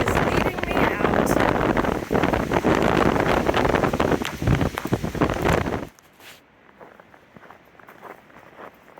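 Strong blizzard wind at Rocky Mountain National Park roars loudly and steadily into the microphone for about six seconds with rustling, footstep-like crunches, then drops abruptly to a faint, quiet background.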